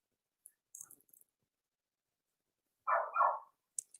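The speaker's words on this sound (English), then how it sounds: "Excuse the dogs barking." A few faint, muffled dog barks sound from a distance, a short pair of yaps with sparse clicks around them in an otherwise quiet room.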